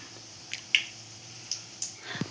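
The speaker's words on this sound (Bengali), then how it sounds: "এইভাবে হালকা হাতে চামচ দিয়ে এইভাবে জলের সঙ্গে ডুবিয়ে দিতে হবে" A spoon lightly dunks fried lentil fritters into a bowl of water for dahi vada, with a few soft wet squishes and drips, quiet and close.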